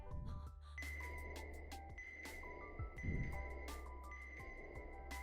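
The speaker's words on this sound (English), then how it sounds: "You're going crazy with that bell." A bell rings repeatedly with bright metallic tones over a steady low hum, the strikes overlapping and lingering.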